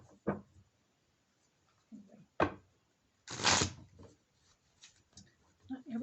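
Tarot cards are shuffled in a few quick riffling bursts, one louder and longer than the rest, with soft handling noises between in a quiet room.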